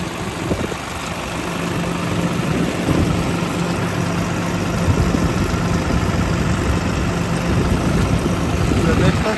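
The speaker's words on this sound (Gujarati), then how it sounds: "ટ્રેક્ટર તો સ્લોમાં હાલે" A tractor engine running slowly on a farm during maize silage making gives a continuous low rumbling drone with vibration, loud and close, while people talk over it.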